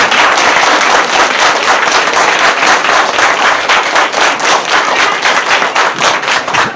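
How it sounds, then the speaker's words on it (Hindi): Audience at a political gathering in an Indian city ward breaks into loud, dense applause, rapid claps sustained and close throughout, no talking. "इनके लिए तालियां कर दीजिए"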